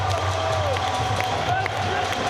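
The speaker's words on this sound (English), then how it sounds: "And the crowd goes wild for this homegrown veritable hero of the moment." A crowd at a World Rolling Series rollerblading event in Detroit roaring and cheering steadily under loud commentary from an announcer.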